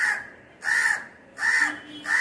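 An adult crow near a nest with a growing chick caws loudly and close. There are four evenly spaced harsh caws with short pauses between them.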